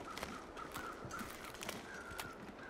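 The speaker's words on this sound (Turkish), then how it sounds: "Orada bir karga sesi var çünkü." In The Long Dark video game, a crow caws repeatedly in the distance, several short harsh calls spread across the moment over a soft outdoor ambience.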